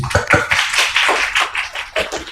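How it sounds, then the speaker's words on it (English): An audience at a debate competition claps in a brisk, dense burst of applause that lasts a couple of seconds, loud and close, with no voices over it. "One more round of applause for Daniel, please."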